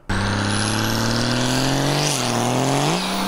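A Cummins diesel engine fitted in a fiberglass Mustang body fires up and idles loudly with a steady, deep drone, its pitch dipping and rising briefly as the throttle shifts, heard close and alone.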